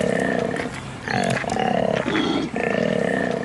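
A male koala, an alpha defending his territory from an intruder in the Australian wild, gives a loud, deep, rasping bellow in repeated snoring pulses, broken by two short pauses, that sounds lion-sized for an animal about as big as a cat.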